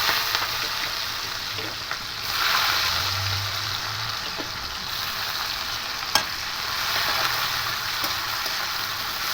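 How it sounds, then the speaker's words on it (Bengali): Onion and green chilies fry in hot oil with a steady, close sizzle and occasional scrapes of stirring, one sharp clink midway, no one speaking. "পেঁয়াজ আর লঙ্কা ভালো করে একটু নেড়ে নেব তেলের সঙ্গে"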